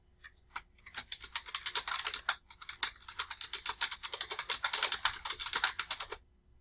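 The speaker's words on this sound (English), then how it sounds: "Then type enter the youth's first and last name." Rapid typing on a computer keyboard, a dense run of close, crisp key clicks in an irregular rhythm lasting about six seconds, with no voices.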